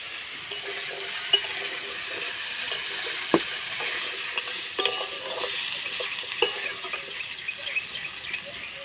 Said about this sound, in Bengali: আলু আর কুমড়ো বেশ করে ভেজে নেব